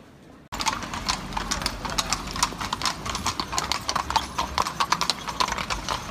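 Horses' hooves clip-clop on a paved street in Vienna, a steady rhythmic series of sharp close knocks, several animals walking together, with faint street ambience behind.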